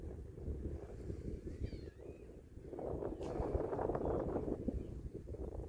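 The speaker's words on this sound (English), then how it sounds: "And it's windy." Wind blows over Florida Bay at low tide, a steady rushing roar buffeting the microphone that swells louder in the second half, with no one speaking.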